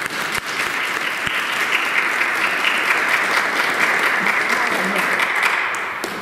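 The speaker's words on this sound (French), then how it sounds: "on peut s'applaudir en notre nom" A church congregation breaks into steady, dense applause at a Mass, a broad sustained wash of many hands clapping together for several seconds before easing slightly at the end.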